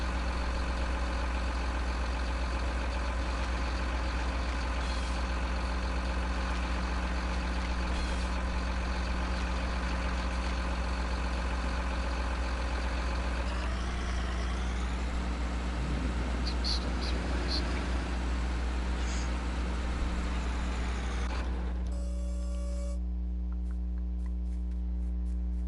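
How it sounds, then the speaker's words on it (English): A tractor engine drones steadily in a logging video game, a loud, continuous low hum with a rising, shifting rev in the middle before it settles back to an even idle. "just driving around with the tractor"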